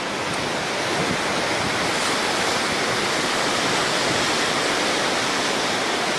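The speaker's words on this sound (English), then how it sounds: "Little waterfall over there." Small waterfall pouring out on the Oregon coast at Depoe or Boiler Bay, mixed with ocean surf: a steady, loud, broadband rush of falling water and waves with no pauses and no voices.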